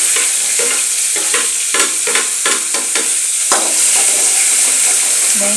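Onion, green chilli, curry leaves and cumin being stirred in sizzling oil, a steady fry hiss with repeated scraping strokes of a spoon against the pan, close and continuous throughout.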